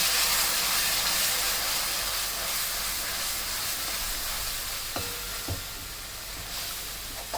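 Chopped onion and four large ground tomatoes sauté in oil in a pan for chicken dum biryani, giving a steady, loud, hissing sizzle with a few soft knocks of a spoon near the end and no talk.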